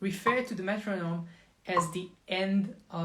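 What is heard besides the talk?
No everyday noises stand out.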